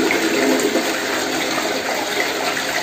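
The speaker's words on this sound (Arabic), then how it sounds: "وشدينا السيفون شفنا قد ايه المكان نضف ولمع جدا" A toilet flushing after being scrubbed clean of limescale, a loud steady rush of water that fills the whole short stretch with no talking over it.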